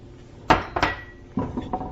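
Carrots, cabbage and green onions are stirred in a pan, a utensil scraping and clanking against the metal in a few quick, close strokes.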